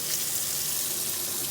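Warm water runs steadily from a kitchen tap, a continuous close hiss and splash with no voices, used to thaw a rock-hard frozen tomato.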